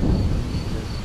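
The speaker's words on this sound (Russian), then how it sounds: "Да, ветер очень сильный." Strong wind roars into the microphone in a brief, heavy, low buffeting rush, loud and close with no other sound.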